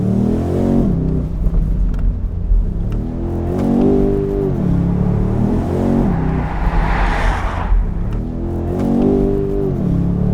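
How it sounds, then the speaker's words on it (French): A BMW M850i convertible's loud V8 engine revs up and down repeatedly, with a brief burst of crackling backfire pops from the exhaust partway through. "On entend le retour de flamme."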